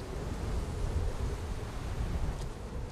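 Icy Arctic wind at minus fifty degrees blows over a sleeping wolf pack, a continuous rough, rumbling rush with no pauses.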